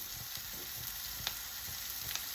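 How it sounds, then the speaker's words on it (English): Sliced onions with garlic fry in a pan, giving a steady, fairly quiet sizzling hiss with a few soft thumps and crackles throughout. "So after a minute, so we are going to add sliced onions."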